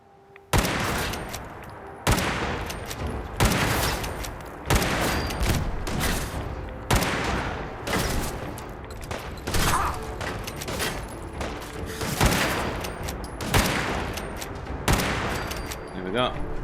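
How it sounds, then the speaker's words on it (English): Enemy gunfire in Fallout 4 Far Harbor, loud sustained bursts of shots and volleys crackling one after another for the whole stretch, with brief gaps between rattling salvos. "They're shooting at something that's over the other side. Now they're going to be shooting at me."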